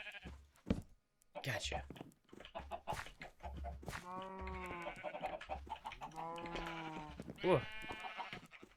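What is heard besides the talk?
sheep bleating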